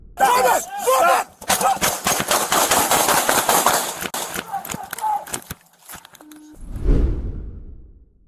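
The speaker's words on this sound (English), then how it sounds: "Shots fired." Police gunfire during a confrontation, a loud rapid burst of sharp cracks heard close up over frantic shouting, followed by a tense pause and a final heavy thud.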